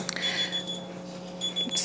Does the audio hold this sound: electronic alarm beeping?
yes